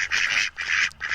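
Three loud, nasal, honking duck quacks from a sound effect, each about a third of a second long, coming in quick succession, close and alone.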